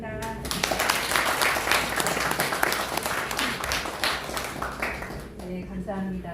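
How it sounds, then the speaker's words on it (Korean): Applause rises for new-writer award winners at an essay magazine review meeting and year-end party, with broad clapping filling the room and speech heard at the start and the end. "다시 한번 신인상 수상자들께 축하의 박수 부탁드립니다"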